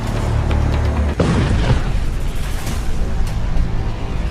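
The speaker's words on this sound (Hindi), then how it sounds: "तेल के जहाज पर बमबारी" Bombing explosion on an oil tanker ship, a deep sudden boom cutting through a continuous low rumble, followed by ongoing heavy roaring noise.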